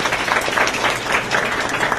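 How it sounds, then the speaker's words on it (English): A conference audience at an influence-network annual meeting claps in a brief, dense burst of applause, steady and moderately loud for a couple of seconds. "Please give another round of applause for them."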